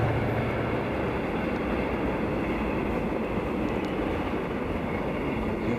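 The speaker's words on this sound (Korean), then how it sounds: "지금 호남선 열차가 이쪽으로 바로 지나가니까" A Honam line passenger train passes by a fishing spot at the water's edge, a loud, steady rolling rumble with wheel clatter that fills the whole stretch.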